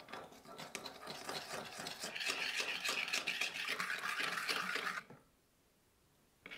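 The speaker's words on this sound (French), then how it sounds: "En mélangeant bien, cette sauce liquide devient crémeuse." A spoon briskly stirs a sauce of sugar, salt and water in a small bowl, with fast rhythmic scraping and light clinking close up for about five seconds, then stopping into near silence.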